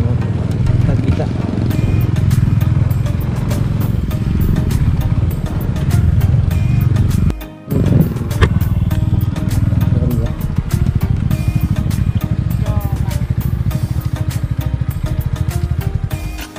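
Motorcycle on a rough, bumpy rural road in Palawan, a loud, close engine drone with jolts and rattles throughout, briefly dipping midway, while a rider talks over it.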